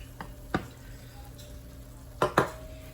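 Moong dal halwa being stirred in a pan after warm milk and sugar go in, with a few sharp scraping clicks of a spoon against the pan and a low, steady background hiss.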